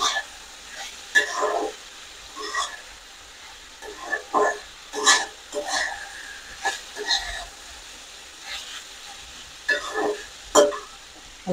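Potatoes tossed with spices and chopped green chilies in a frying pan, stirred in several separate bursts of scraping and light sizzling with quiet pauses between them.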